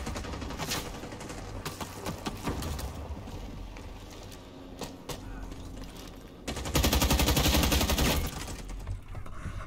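Dense gunfire in Rising Storm 2: Vietnam, with rapid automatic bursts and scattered single shots running throughout, and a louder sustained volley near the end.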